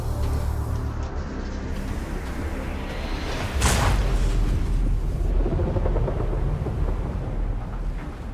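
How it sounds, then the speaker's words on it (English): A torpedo strikes and sinks the ocean liner Athenia: a deep rumbling underwater roar swells into a sharp booming blast midway, then low churning rumble and debris noise trailing off. "The explosion lit up the ocean."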